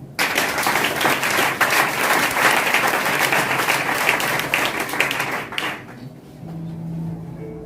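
A church congregation breaks into loud, sustained applause that fills the room for several seconds and then fades out quickly, leaving only a quiet room tone.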